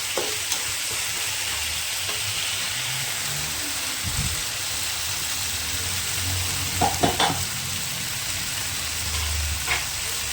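Spices with ginger, garlic, dried chilies and chili powder being sautéed in a pan for prawn chops give a steady, close frying hiss with occasional stirring scrapes and clunks.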